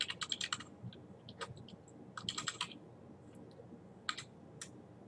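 Typing a folder name on a computer keyboard while setting up a Google Drive folder, with quiet close bursts of crisp key clicks in irregular clusters and pauses between them, no talking.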